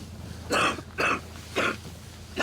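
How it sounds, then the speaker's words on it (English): Four harsh, raspy coughs and splutters from a person with breathing trouble on a South Pole expedition, at roughly half-second intervals, close and fairly loud, with short pauses of quiet between them. "Coughing and spluttering."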